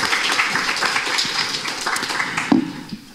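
An audience at a film screening gives a round of applause, a dense, fairly loud patter of many hands lasting a few seconds before tapering off.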